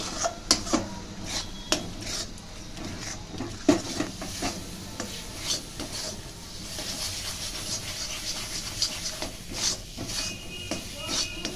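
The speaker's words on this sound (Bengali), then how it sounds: "এভাবে নেড়ে চেড়ে একটা ডোয়ের আকারে আমি তৈরি করব।" Milk powder dough with a little desi ghee being stirred and pressed in a pan. Busy, continuous scraping and clinking runs over a steady sizzling hiss, close up.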